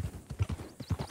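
Horses gallop in the RedM western video game, hooves drumming in a quick, steady clip-clop rhythm, close and fairly loud with no talk over them.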